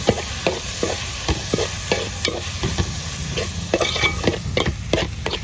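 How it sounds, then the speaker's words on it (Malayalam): Chopped tomatoes stirred into a frying chicken roast masala: loud, close, rhythmic scraping of a spoon over a continuous sizzle, each stroke clearly separate, with no voices. "നമുക്ക് ഈ അരിഞ്ഞ് വെച്ച് തക്കാളി പഴം കൂടെ അങ്ങ് ചേർത്തേക്കാം നല്ലപോലെ ഒന്ന് എടുക്കാം"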